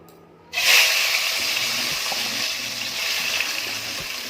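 Marinated prawns dropped into hot oil in a wok, a sudden loud sizzle that bursts in and then settles into a steady, close hissing fry.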